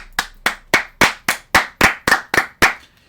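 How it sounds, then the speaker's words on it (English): A single person claps about ten times in a steady rhythm, sharp close slaps following a call for a round of applause during a baseball talk show discussing the London series. "Round of applause."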